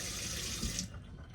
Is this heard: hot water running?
yes